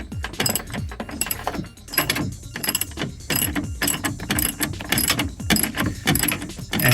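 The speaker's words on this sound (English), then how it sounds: "So now we're gonna torque up the top bolts. So we're gonna tighten these up." A ratchet wrench tightening 13mm strut top bolts, with quick repeated clicking strokes in bursts, close and fairly loud, with no voice over it.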